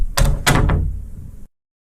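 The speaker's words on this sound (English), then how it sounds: "He walked in and gently closed the door." A door swings shut with a couple of solid thunks, a close, fairly loud latch closing with a short reverberant tail, then silence.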